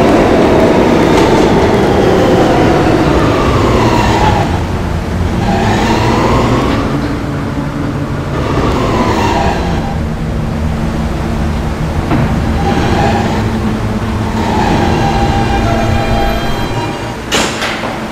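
An R160B subway train in a Roblox game runs loudly and steadily, its motors whining up and down in repeated rising and falling sweeps over a constant rumble, with no voices heard.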